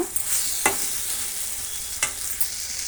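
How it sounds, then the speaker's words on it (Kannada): Brinjal gravy ingredients frying in a pan over a medium flame, a continuous bright sizzle close up with a few sharp clicks of a spoon against the pan, no voices. "ಈಗ ನಾವು ಒಂದು ನಿಮಿಷ ಹಾಗೆ ಫ್ರೈ ಮಾಡೋಣ"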